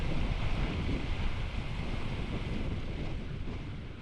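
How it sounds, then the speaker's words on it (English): Steady wind buffets the microphone outdoors on a fishing outing near open water, a loud continuous rushing roar with faint surf-like swells underneath and no talking. "Look at that wind."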